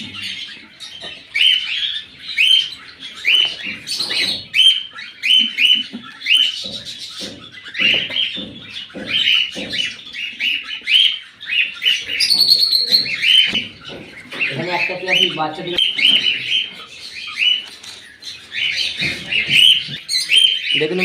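Cockatiels at a clay-pot breeding box chirp and tweet almost nonstop in bright, busy bursts, close and fairly loud, with scratchy calls layered over one another and no talk.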